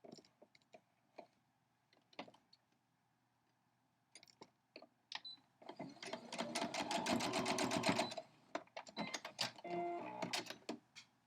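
A sewing machine stitches quilt fabric pieces for a crumb quilt block, a close rapid mechanical run of about two seconds followed by short bursts and clicks, with scattered handling taps before it.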